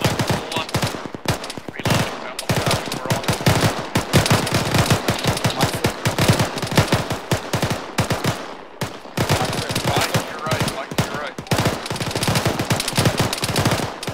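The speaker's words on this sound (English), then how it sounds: "Lay on suppressive fire. Hit that wood line." Sustained machine-gun suppressive fire in the military game Arma 3, loud and near, with dense rapid bursts running almost without pause for the whole stretch.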